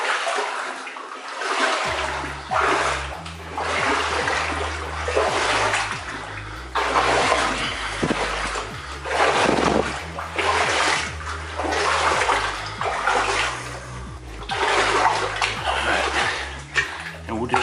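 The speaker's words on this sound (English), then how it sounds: "I don't even know how far I've walked through the water. Water's about 2 feet deep, which is okay." Wading through water about two feet deep inside a flooded underground mine haulage way: continuous splashing and sloshing close by in rhythmic surges with each stride, with someone talking over the water noise.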